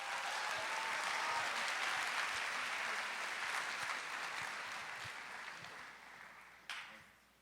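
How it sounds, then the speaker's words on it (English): A room at a business incubator pitch night claps for graduating seniors, dense sustained applause that swells early and slowly tapers off before a final brief burst and fade. "Let's give these seniors another round of applause"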